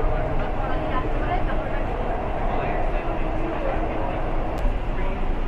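A Kolkata underwater metro train runs beneath the Ganga, giving a steady, loud rumbling roar of the carriage in motion with continuous broadband rail noise and no distinct breaks.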